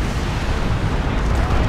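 Lascannon fire from a Land Raider Redeemer in a Warhammer tabletop-style video game, heard as a dense, sustained roar of heavy booming blasts filling the whole moment at steady loudness.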